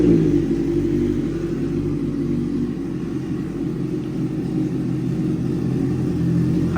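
A red-framed 2016 Honda CB650F limited edition with a full titanium exhaust and SC end can, idling with a steady deep rumble, close and loud throughout.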